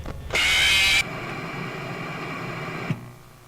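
A bright, harsh electronic buzz blares for under a second as the player dies in Five Nights at Freddy's, then gives way to a steady droning hum that cuts off with a click.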